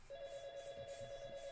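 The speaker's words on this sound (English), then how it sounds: "Phone's ringing, gotta answer it." A steady electronic phone ring in the horror game Five Nights with 39, a single sustained tone held at moderate level throughout with no talk over it.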